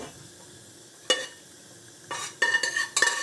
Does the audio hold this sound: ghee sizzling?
yes